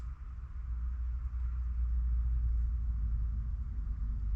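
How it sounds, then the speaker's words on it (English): Road traffic outside a house on a busy afternoon as school lets out, a faint, steady low rumble of passing vehicles heard from indoors, with no talk over it. "You can hear a lot of the traffic out there today."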